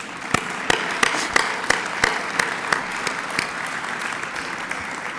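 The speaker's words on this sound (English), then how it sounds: "I think we should give them a round of applause for just that" A round of applause at an athletics hall of fame induction ceremony, with scattered distinct claps standing out over a steady bed of crowd clapping that carries on to the end.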